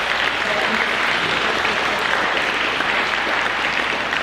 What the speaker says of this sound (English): so if you could give them a round of applause as well